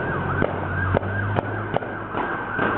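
Police sirens during a car pursuit on a residential street, a steady wailing tone held continuously with sharp impulsive bangs breaking through it several times, heard from a moderate distance.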